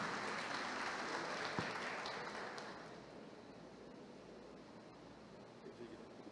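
An audience at an evening business awards event in Guanambi applauds the mayor, a faint, distant wash of clapping that gradually thins out.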